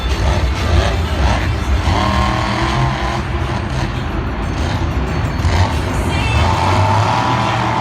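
Scarlet Bandit, a Monster Jam truck at a Glendale 2020 stadium show, roars continuously as its engine revs through a spinning donut, loud and sustained with crowd noise and a faint commentator voice beneath.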